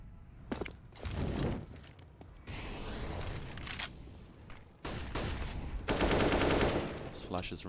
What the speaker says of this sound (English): Quick headshot on Esperanto.